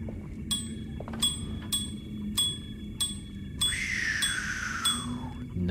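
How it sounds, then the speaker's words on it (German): A doorbell rings in Alone in the Dark, a bright metallic chime struck about six times in a steady, quick rhythm, followed by a sliding, falling tone over a low background hum. "guck mal, wie sie mit ihren Jedi-Kräften die Klingel bedient"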